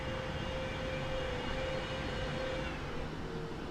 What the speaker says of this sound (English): I think the reversers are automatically being activated